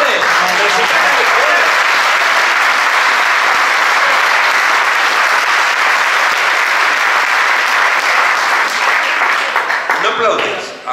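Sustained applause from a large audience at a Spanish political rally in Torrelavega, steady and loud throughout before tapering off at the end, with voices mixed into the crowd noise.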